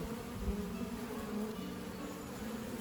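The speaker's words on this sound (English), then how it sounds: "I'll show you the goings on of the bees from a bee's" A steady, dense buzzing of many honey bees at the hive entrance at close range, a continuous low drone with no voices.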